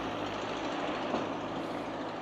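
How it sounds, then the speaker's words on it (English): A car with a poorly running engine on a village street in Pitsidia, Crete. A rough, continuous rumble sits close by at a steady level throughout, with no talking over it. "that car needs a service."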